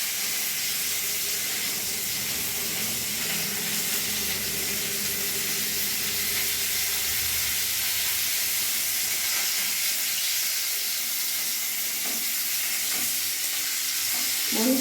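Ginger, cashew and melon seed paste frying in a pan for a cauliflower korma, giving a steady soft sizzle and hiss that carries on throughout, with a few faint clinks of a utensil near the end.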